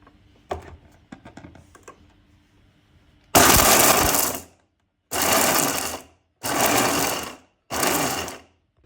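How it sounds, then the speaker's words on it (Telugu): A mixer grinder pulses green apple pickle coarsely in four loud whirring bursts, each one to two seconds long with short silent gaps, after a few soft clicks and handling knocks. "ఇప్పుడు దీన్ని కచ్చా పచ్చాగా మనము గ్రైండ్ చేసుకుందాము ఇప్పుడు మనం పల్స్ యూస్ చేస్తూ మనము కచ్చా పచ్చగా పచ్చడి వేసుకుందాం"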